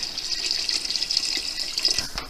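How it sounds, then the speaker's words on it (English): Water pours from a copper jug in a home kitchen, a steady bright splashing trickle for a couple of seconds, close and alone. "now I get from our lovely copper jug that we drink all of our water out of"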